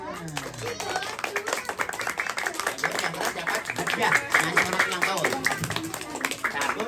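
Guests at a child's tenth birthday party with a clown clap loudly and quickly in a lively, uneven burst, with voices and cheering mixed in throughout.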